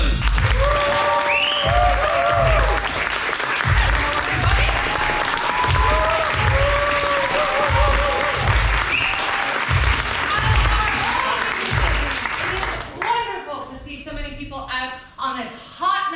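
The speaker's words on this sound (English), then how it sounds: "Give yourselves a round of applause" Loud, sustained applause and cheering from a large comedy-night audience, with a voice speaking over the clapping near the end.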